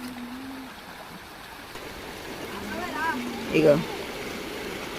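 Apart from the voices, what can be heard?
village stream flowing water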